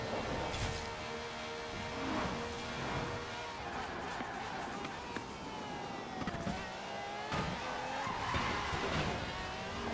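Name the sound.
Ferrari racing car engine and tyre skids in Forza Horizon 4 video game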